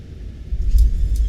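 Reverse thrust on a Boeing 737 MAX 8 during landing rollout in MSFS 2024, a broad low roar of engine and runway rumble that builds and stays loud over a brief moment.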